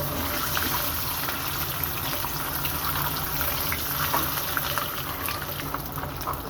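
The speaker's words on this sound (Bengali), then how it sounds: "এখন আমি দিয়ে দিব সেই ডিমগুলা, একটু ভালো করে ভেজে নিব নেড়ে ছেড়ে।" Eggs frying in hot oil in a pan, a steady loud sizzle and crackle that runs continuously without pause.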